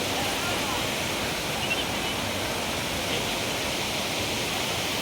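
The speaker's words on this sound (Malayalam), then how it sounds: "കള കള കള കളാന്ന് കേൾക്കുന്ന ഒരു അരുവിയുടെയൊക്കെ സൗണ്ട് ഇല്ലേ അതാണ് കേട്ടോണ്ടിരിക്കുന്നത്" Crystal-clear stream at Meen Pidi Paara, a steady broadband rush of flowing water that runs close and unbroken throughout, with no voices.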